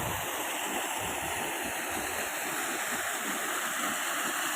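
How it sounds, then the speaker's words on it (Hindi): A waterfall in the Himachal hills, a steady loud rushing roar of falling water heard close and unbroken throughout, with no voices. "झरना।"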